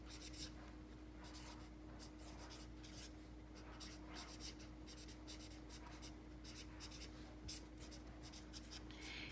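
A pencil scratches out algebra by hand in a steady, continuous stream of close strokes over a constant background hum. No one speaks.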